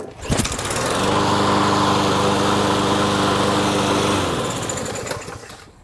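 A Briggs & Stratton 550EX push lawn mower engine is pulled over and fires up within a second, then runs at a loud, steady, smooth drone with no surging before cutting off near the end.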